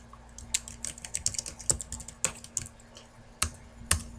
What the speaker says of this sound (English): now I'm going to go back to typing the letter